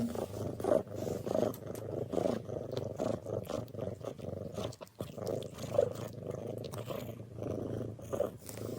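A house cat purrs steadily and close by in a low, continuous rumble with slight pulsing and occasional rougher breaths, no voices heard.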